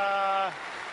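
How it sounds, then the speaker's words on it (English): A large conference audience at Google I/O 2012 applauds athletes and performers; a short tonal sound gives way to a steady wash of clapping that carries on evenly to the end. "some of our athletes who are performers, just want to give them another big round of applause"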